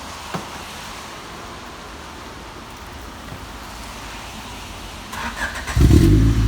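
A car engine idles steadily, then near the end a sharp burst of revving rises loudly and close by.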